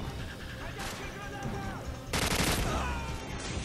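Rapid bursts of RPD machine gun fire in Call of Duty 4, loud and dense near the end, with a voice talking over the shooting.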